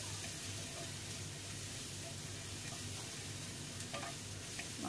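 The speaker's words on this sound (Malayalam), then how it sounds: "ഈ മസാലകളുടെ പച്ചമണം മാറുന്നത് വരെ നല്ലോണം നമ്മൾ വഴറ്റി എടുക്കുന്നുണ്ട്" Ground spices such as coriander, turmeric and garam masala sautéing in a pan for a Hyderabadi beef biryani, a soft continuous sizzle with faint stirring, quiet and close, with no talking.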